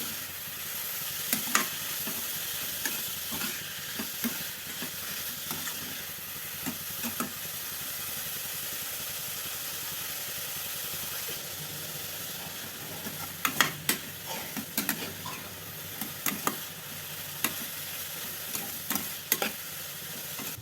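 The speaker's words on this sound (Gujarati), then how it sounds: "હાઈ ફ્લેમ ઉપર આ રીતે 3 મિનિટ હલાવવાનું" Carrot halwa is stirred in a pan over a high flame, a continuous soft sizzle and hiss punctuated by repeated scraping and knocking strokes of the spoon, clustering more densely toward the end.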